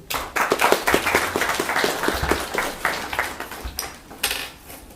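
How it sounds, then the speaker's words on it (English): A small audience claps at a talk on positive mental attitude, the claps distinct and individually audible in a fairly quick, loosely rhythmic burst that thins out after a few seconds. "Give me applause, Nikhil."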